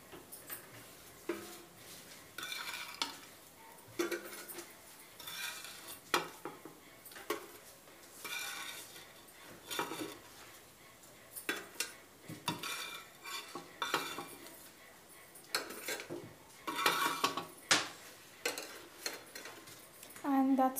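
Utensils clink and scrape against dishes while dry masala idly is served, a steady run of close, irregular metallic taps and stirring scrapes with no talking.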